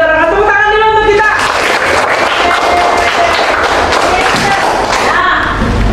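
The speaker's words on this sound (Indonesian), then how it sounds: "Tepuk tangan dulu untuk kita." Elementary school class clapping their hands together in the classroom, a loud burst of dense, fairly rhythmic clapping after a short bit of singing, fading out as a voice returns.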